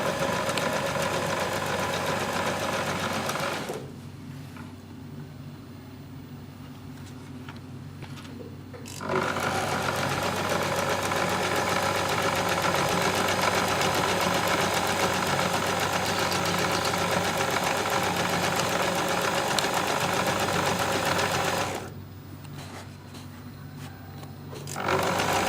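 A sewing machine stitching along the edges of a bag gives a steady motorized whir. It runs, stops for several seconds, runs for a long stretch, then pauses again near the end.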